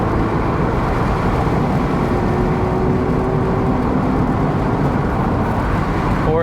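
A Mazda RX7 with a flat spot in the throttle accelerates steadily, its engine drone loud and constant with a rising note near the end as it pulls through the gears.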